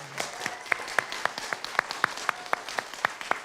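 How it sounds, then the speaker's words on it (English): Sparse, steady clapping from a small audience at a family Shabbat service, honoring the teachers with evenly spaced, fairly faint claps throughout. "You can give them a round of applause."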